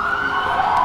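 Emergency siren wailing on a city street, a loud, steady, continuous tone that fills the whole brief moment, with no voices.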